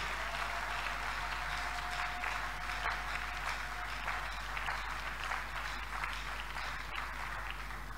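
A church congregation at a French-language worship service applauds and cheers loudly and continuously, a dense wash of clapping filling the room with no break.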